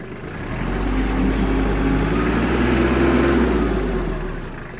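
A Kubota KL-33 diesel mini tractor engine runs with a low, steady chug, its pitch and loudness swelling gently as the throttle is raised then easing back.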